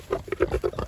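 Bengalese pigs rooting in a turnip patch give a quick run of short grunts, about six in under a second, close and moderately loud with no talking.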